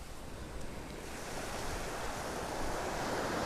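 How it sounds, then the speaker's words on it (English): Small ocean waves wash onto a beach in the early morning, a continuous soft surf that swells gradually, steady and moderately quiet, mixed with some wind noise and no voices. "I just love the sounds of those little waves in the morning"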